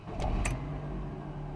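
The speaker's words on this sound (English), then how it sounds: "So, when we start the car up" A Mk5 Ford Fiesta engine cranking and catching, brief starter noise followed by a steady low idle hum, close and fairly loud with no talk.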